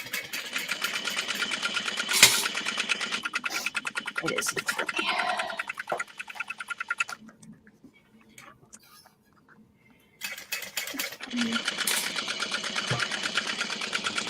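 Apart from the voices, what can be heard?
sewing machine top stitching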